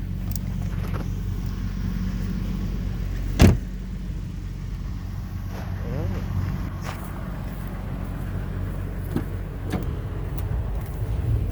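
A Lincoln Navigator SUV idles on a cold November morning, its engine a steady low rumble heard from inside the cabin, with a sharp click near the start and a few small clunks later.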